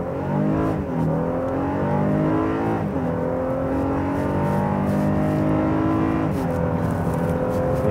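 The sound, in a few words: 2016 Honda Pilot V6 engine accelerating on freeway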